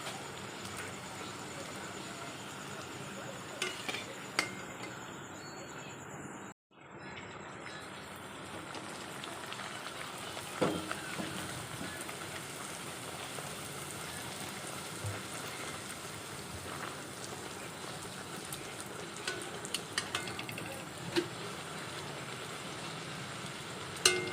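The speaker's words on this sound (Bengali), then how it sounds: "তাই সাদা সাদা করেই ভাজছি একটু বেশি লাল করছি না" Steady, faint crackling and popping of naan puris deep-frying in hot oil, a continuous rain-like sizzle with a few sharper pops.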